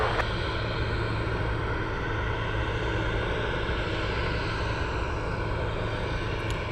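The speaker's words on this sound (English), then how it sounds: "UPS 109, touching down right now." A UPS cargo aircraft touching down on the runway at Anchorage Airport, a continuous steady engine roar with a low droning hum, fairly loud and alone without talk.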